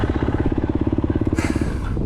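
A dirt bike engine at a hare scramble race fires and idles with a fast, even chugging pulse, close and loud, then a brief rev near the end.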